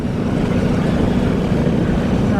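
Motorcycles ride along together at a rally in Salisbury, Wiltshire, their engines giving a steady, loud low drone with rumbling wind noise throughout and no pauses.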